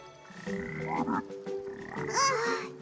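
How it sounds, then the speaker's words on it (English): Poison frogs in an anime fantasy dungeon let out a few loud, gurgling croaks, a couple of drawn-out bursts with warbling, wobbly calls, close and clear with no speech. "Poison frogs."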